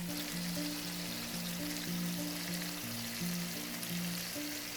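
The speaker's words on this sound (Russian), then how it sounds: "И обжариваем куриную грудку где-то минут 4-5 на среднем огне." Chicken breast frying in hot oil in a pan over medium heat, a steady close crackling sizzle with an even level throughout, over a faint low hum.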